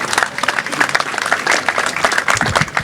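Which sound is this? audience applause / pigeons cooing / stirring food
audience applause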